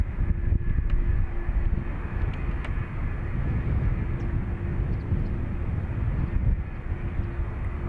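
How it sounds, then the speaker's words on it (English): An Airbus A330 jet at Dublin Airport, heard as a steady low broadband engine roar, fairly loud and continuous, with light wind noise and no talking. "Unmistakable sound of a 330 on the way."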